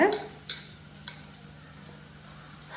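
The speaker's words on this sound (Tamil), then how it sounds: "கனவா வந்து கொஞ்சம் பொட்டி தெரிக்கும்" Squid fries in hot oil with a steady, soft sizzle and an occasional sharp pop from spattering, heard close up.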